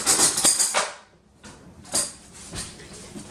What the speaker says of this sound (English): I'm going to find some large utensil to stir with